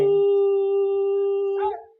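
A person imitates a dog howling with one sustained, wavering, tonal howl lasting about two seconds. It is close and alone, then breaks up and fades at the end.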